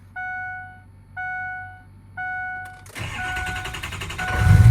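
A pickup truck cranks three times with a chiming warning tone, then the engine catches and starts, running loud and close as the revs rise at the end.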